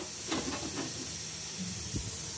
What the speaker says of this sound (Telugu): 2 నిమిషాలు ఆవిరి తెప్పించుకుని మళ్ళీ ఇదిగోండి ఇడ్లీలు ఆవిరి చూసారా ఎలా వస్తున్నాయో.